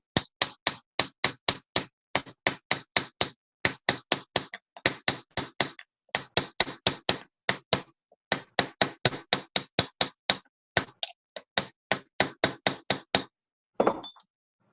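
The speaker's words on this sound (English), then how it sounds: "I need to use a smaller hammer." Quick, steady small-hammer taps clink against metal during chasing and repoussé work in long rapid runs, broken by short pauses, close and clear with no talking.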